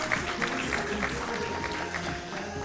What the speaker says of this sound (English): A round of applause, please, ladies and gentlemen, honorable delegates.